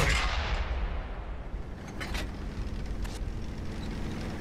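Heavy tank cannon fire in the World of Tanks video game opens with a loud booming blast that rolls into a long fading rumble beneath engine drone.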